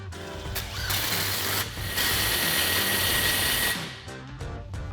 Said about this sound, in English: take a 16mm socket, tighten down your clamp